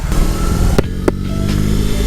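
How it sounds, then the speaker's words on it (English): A BMW R18 B motorcycle with a boxer engine starts and rides off, giving a loud, steady, close-up engine drone with a few sharp clicks along the way. "Immediately upon startup, the torque kind of moves you around a little bit, which is a very distinct thing with these boxer engines."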